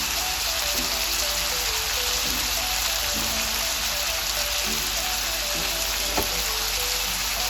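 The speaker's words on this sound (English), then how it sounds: "Stir it all around so that everything can mix up properly." Eggs seasoned with pepper, garlic powder and salt fry in a pan, a dense steady crackling sizzle like light rain, with occasional soft stirring scrapes and no voices.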